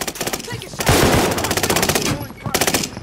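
Loud gunfire in a battle royale video game, with rapid automatic bursts that repeat in quick rattling strings and a heavier blast in the middle. Faint voices sit under the shooting.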